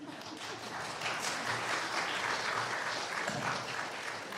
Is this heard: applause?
yes